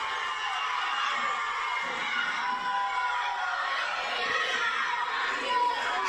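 A wrestling crowd chants 619 at a live Wrestling Stars show, a dense wash of many voices roaring and shouting together, steady and moderately loud, with a commentator's voice audible over it.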